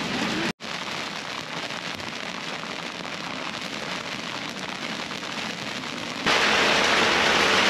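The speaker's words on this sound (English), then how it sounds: "There's like thunder coming straight at us." Heavy rain pounds a sailboat at anchor in a Bahamas bay during a thunderstorm, a dense steady roar of drops hitting the surface that swells even louder near the end, with no voices.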